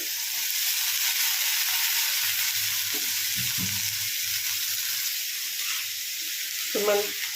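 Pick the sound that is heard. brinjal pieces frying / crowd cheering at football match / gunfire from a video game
brinjal pieces frying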